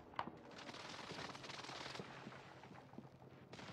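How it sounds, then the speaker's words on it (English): Airstrike explosions in the Warzone video game, a rumbling barrage of dense blasts and crackling booms rolling continuously, fairly faint and distant in the mix. "Airstrike."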